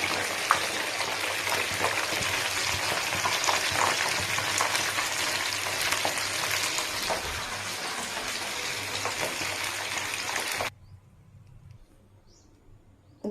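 Eggplant slices fry in hot oil over a high flame, a dense, steady crackling sizzle running loud for about ten seconds before cutting off abruptly to near silence.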